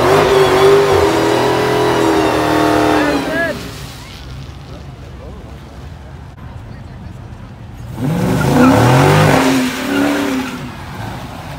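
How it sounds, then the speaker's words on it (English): Dodge Hellcat cars racing at a drag strip, with a loud engine roar that fades into the distance, a quieter stretch, then another roaring car passing close, all under crowd noise and voices. "Racing another Hellcat, I think."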